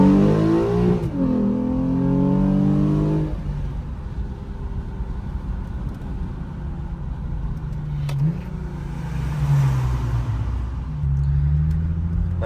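A 2017 Lexus IS350 accelerates hard, its engine note climbing through rising revs then dropping at a gear change before pulling again, loud and steady from inside the cabin.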